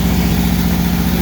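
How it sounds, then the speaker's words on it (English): A VW 1600SP air-cooled engine, an EMPI GTV tribute build, idles steadily close by with an even, low rumbling pulse and no voices over it. "Good running engine."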